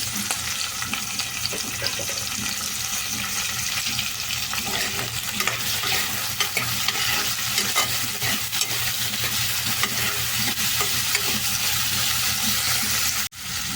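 Tomato pieces fry on a hot tawa in a loud, steady, close sizzle that runs without a break, with soft stirring crackles throughout and one brief dropout near the end.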